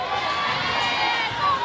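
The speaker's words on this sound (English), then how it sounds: "The crowd lets them know we are into this ball game." Crowd roaring and cheering in a high school gym during a basketball game, a dense, sustained wash of many voices that swells slightly near the end.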